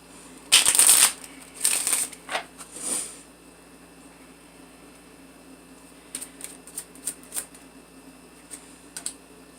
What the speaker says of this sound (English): I'll just take one Lenormand card for each card that's here.